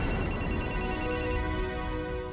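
A telephone ringing indoors in a Marathi TV serial, a sustained electronic ringing tone that fills the opening stretch, then fades and thins toward the end, with no speech.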